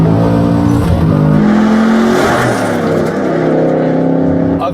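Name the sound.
Ford Mustang Shelby GT350R driving on track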